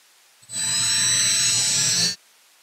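A CNC router cutting shipping crate packing material, a high whining spindle and cutting noise that starts abruptly, holds steady and loud for about a second and a half, then stops cleanly into quiet.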